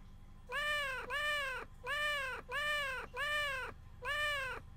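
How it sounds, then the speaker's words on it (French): Six repeated cartoon cat meows from a Scratch video game, each a clear harmonic mew of about half a second, evenly spaced and loud, with no talking. "c'est un peu addictif d'écouter ce chat"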